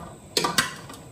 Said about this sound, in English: So I'm gonna use my screen ladle to get the peppers out of the pot so I don't take a lot of fluid with them.